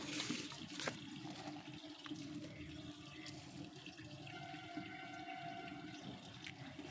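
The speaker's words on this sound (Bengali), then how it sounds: "আর ভালো করে ডুবিয়ে জল দিতে হবে এভাবে জল দিয়ে রেখে দিতে হবে" Water is poured over garden soil in a container after leafy winter greens seeds are sown, making a soft continuous splashing and trickling that stays faint and steady throughout.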